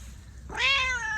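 A single cat gives one clear, close meow that rises and slowly trails off, following a quiet stretch with no other sound.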